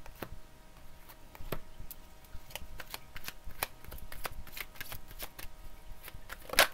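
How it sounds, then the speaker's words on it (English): Tarot cards being pulled and handled, soft scattered clicks and flicks of card stock, close and quiet with irregular pauses, with no talking. "I also feel like pulling these cards, so I'm going to put these up here."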